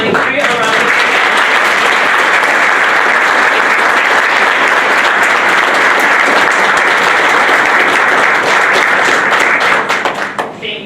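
At a school board meeting, an audience gives a long, dense round of applause for the top 10 students of the class of 2023, loud and sustained before fading at the end.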